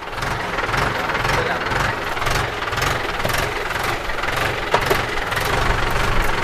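A farm tractor's engine runs steadily with a low, rhythmic throbbing at idle-to-working pace, close and continuous throughout, with a faint clank or two in the middle.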